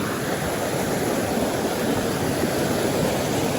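Steady broadband rush of a stream flowing in Kakopetria village, Cyprus, loud and close, continuous with no breaks and no voices over it.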